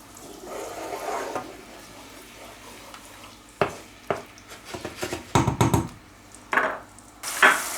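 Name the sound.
white wine reducing in a pan, sizzling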